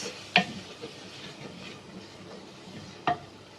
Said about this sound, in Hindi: दही हम ऐड कर देंगे। अच्छे से करेंगे मिक्स।